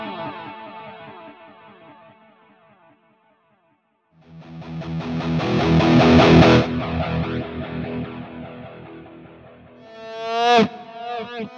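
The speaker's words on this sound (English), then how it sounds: "I'll play a note and then turn the foot pedal off." An electric guitar played through a Fractal FM9 with heavy effects rings out, fades to near silence as the volume pedal is shut off, then a washy distorted swell and a sharp bright burst follow, with no voices.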